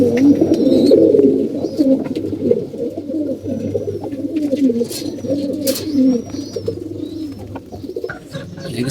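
Pigeons coo in their coop, several birds overlapping in soft, rolling, throaty calls that carry on almost without pause, close and fairly loud.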